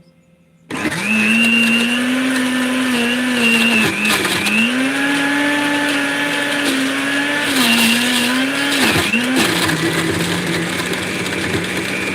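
A blender covered with a cup instead of its lid whirs loudly and steadily for several seconds, its motor pitch dipping briefly a few times as it churns, with no talking.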